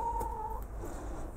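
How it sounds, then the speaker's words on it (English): A chicken clucks in the background of a garden while tomatoes are being sown, a few short faint calls over steady low rumble with no talking. "That's one of the chickens."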